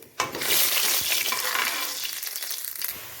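Cumin, carom and mustard seeds roast in a hot pan for a cabbage curry, giving a steady, close sizzle with a scrape of stirring. It starts sharply and stays loud, with a few soft knocks along the way.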